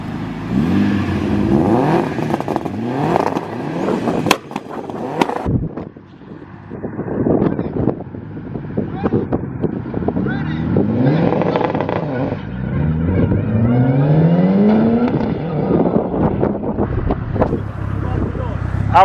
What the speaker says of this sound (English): let's get some revs